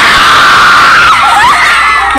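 A group of grade 9 students scream and cheer in unison at a school volleyball game, a loud sustained crowd shout holding steady for about two seconds.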